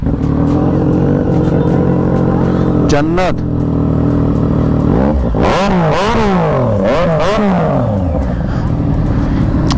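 Loud Triumph Street Triple motorcycle engines idle and then rev hard in several rising and falling bursts, close by, with a voice speaking briefly.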